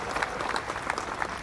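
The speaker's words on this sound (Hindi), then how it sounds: "एक बार जोरदार तालियों से उनका स्वागत करें" Audience applause at the inauguration of the Bharat Ratna Atal Bihari Vajpayee e-library, greeting the architects and contractors; steady, fairly faint clapping from a crowd across the whole moment.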